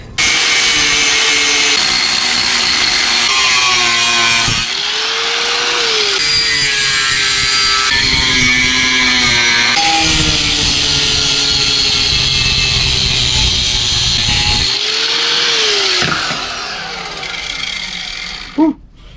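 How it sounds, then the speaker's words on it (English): A Harbor Freight angle grinder cuts metal for a Harley-Davidson spiked rear motorcycle fender: a loud, close, continuous high-pitched whine and grinding screech with shifting pitch as it bites, stopping abruptly at the end. "Harbor Freight grinder, best 25 bucks I ever spent."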